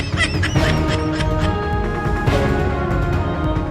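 A domestic duck quacks in a village setting, giving a dense run of loud, close, nasal calls that continue steadily for the whole stretch with no talking.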